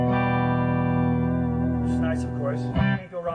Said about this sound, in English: By itself is just a Fender amp with the guitar itself.